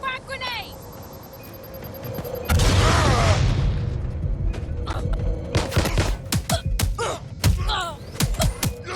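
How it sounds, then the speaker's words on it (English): Frag grenade blast in Watch Dogs: Legion, a heavy booming burst followed by a string of sharp thuds and bangs, with shouting voices over the top. "Releasing frag grenade!"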